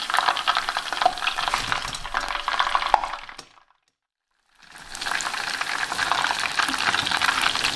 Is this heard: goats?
no